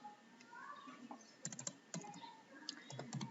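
A computer keyboard is typed on while writing code, with quiet, close clusters of key clicks and short pauses between, heard alone at low volume.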